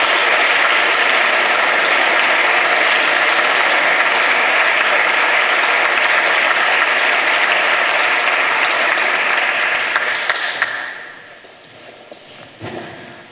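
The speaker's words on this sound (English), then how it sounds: "One more round of applause." An audience at a European youth science competition prize ceremony applauds in a loud, dense, sustained burst of clapping that fades out near the end, followed by a few scattered claps.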